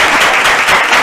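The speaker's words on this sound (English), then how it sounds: "I'm going to clap myself right here" A single person clapping hands for a virtual leadership conference speaker, a dense, close and loud burst of rapid claps with no pause.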